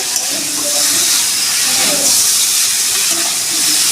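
Masala sizzles and fries with cauliflower in a pan while a Bengali tengra fish curry is being cooked, a steady, loud, close hiss running throughout with no talking.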